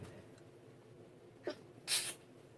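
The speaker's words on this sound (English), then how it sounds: "I had to sneeze again" A single quiet sneeze, a short sharp burst preceded by a brief intake of breath, in a quiet room.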